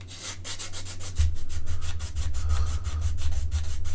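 A sanding stick rubs back and forth across a small model part for a Sisters of Battle Exorcist miniature, producing rhythmic, close, raspy strokes at a steady quick pace with a low background hum.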